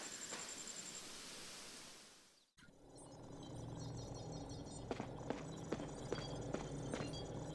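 Horse hooves clip-clop in the UFO Robot Grendizer video game, a few light, evenly spaced hoof clicks over a soft ambient bed after a noisy rushing passage cuts out abruptly.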